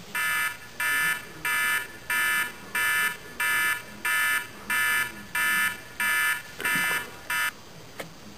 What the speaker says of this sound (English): An alarm on the fourth gen.